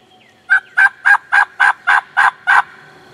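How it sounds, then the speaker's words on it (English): Wild turkey gobbling during a spring hunt in Kentucky, a loud series of eight quick, evenly spaced rattling calls in a clear outdoor setting, with no talking. "we got a bird gobbling at us about 200 yards"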